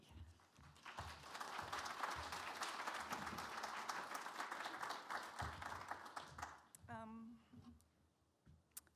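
An audience bursts into sustained applause to welcome a guest art lecturer, dense steady clapping that swells and then tapers off, giving way to a voice speaking at the end.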